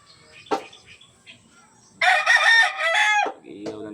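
A rooster crows once, close and loud, a long harmonic call lasting over a second, preceded by a few faint clucks and followed by a short trailing cluck.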